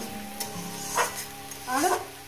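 Mourala fish and spinach frying together in a pan, a soft sizzle with a few stirring scrapes at close range, brief and fairly quiet with no talking.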